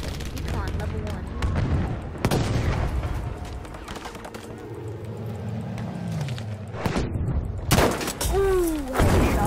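Gunfire and explosions crack and boom through a Battlefield V battle, several sharp shots and heavy blasts scattered across the scene with whistling debris and rumbling between, loud and close, with game voices and music around them.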